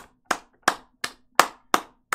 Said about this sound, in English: So let's go ahead and clap it up for that